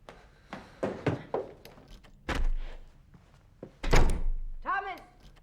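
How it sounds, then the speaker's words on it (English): A door slams in a 2002 French film scene, two heavy thuds landing close and loud after a voice speaks in a domestic setting. "I have told you not to slam the door."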